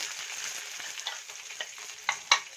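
Spices with garlic and ginger frying in a pan for a paneer pulao, a soft steady sizzle with scattered crackles and a few sharper pops near the end, close by with no talking.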